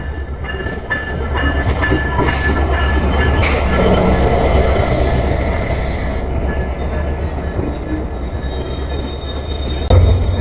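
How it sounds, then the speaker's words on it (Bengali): The Rupsha Express pulls into a station platform in Bangladesh with a loud, steady rumble of wheels, sustained metallic squealing and a clank near the end, close and unbroken. "অলরেডি আমার ট্রেন প্ল্যাটফর্মে প্রবেশ করছে"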